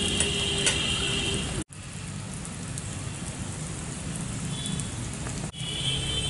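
Potato fries deep frying in plenty of oil give a loud, steady, dense sizzle and crackle that runs throughout, broken by two brief cutoffs.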